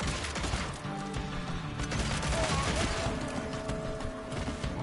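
Rapid revolver fanning fired from the hip in the Evil West video game, a dense, continuous burst of overlapping gunshots with clattering impacts and mechanical noise throughout.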